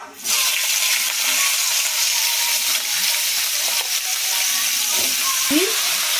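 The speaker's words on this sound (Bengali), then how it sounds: "তার জন্য তেল ঢেলে দিলাম। সিম বেগুনটা ছেড়ে দিচ্ছি।" Sliced beans and eggplant dropped into hot oil for a Bengali mixed-vegetable dish, frying with a loud, dense, continuous sizzle close by, with occasional utensil scrapes and no voices.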